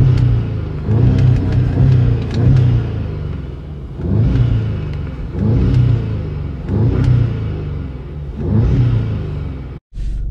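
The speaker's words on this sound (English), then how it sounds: "letting the car warm up." A modified Audi car engine rumbles and revs in loud, rising surges about every two seconds, heard from inside the cabin with no talk over it.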